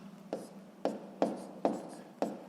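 Pen or chalk writing out a sixth-grade math equation, a steady run of five sharp scratchy strokes at regular intervals, close and distinct over a low background hum.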